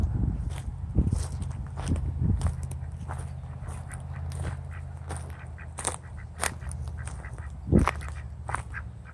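Several ducks quack in short bursts over a steady low rumble, with scattered footsteps and light movement nearby; no talking.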